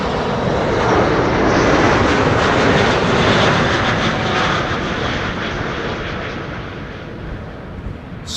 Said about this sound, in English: This is KLM flight 604 arriving from LAX